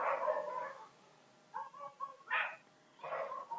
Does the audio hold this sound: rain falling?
no